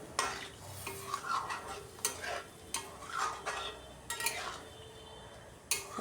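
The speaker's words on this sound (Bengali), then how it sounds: "এবার কিছুক্ষণ নাড়াচাড়া করে ভালো করে মিশিয়ে নিলাম।" Rohu fish curry with pointed gourd, potato and other vegetables is stirred and mixed in a pan, with repeated scraping strokes of a utensil over a low bubbling simmer, close and fairly quiet.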